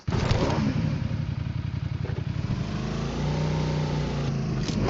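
A PUBG Mobile motorcycle engine roars loudly and steadily, with a rattling idle that settles into a sustained drone, close by.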